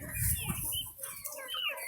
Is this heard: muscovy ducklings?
yes